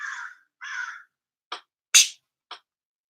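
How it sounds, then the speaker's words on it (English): A crow caws outside a window in a run of harsh calls, two longer ones followed by three short sharp ones, fairly close and clear with no talk. "There's a crow outside my window screaming at me."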